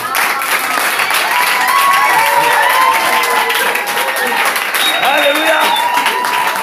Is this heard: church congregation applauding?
yes